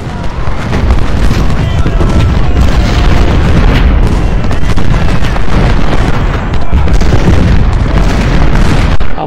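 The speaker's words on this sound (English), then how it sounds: "he's also dealing a lot of damage with the cannons" Cannon and artillery fire in Ultimate General: Civil War at the Battle of Malvern Hill, with dense overlapping booms and bursts rolling on without pause, loud and close, and faint battle noise in the background.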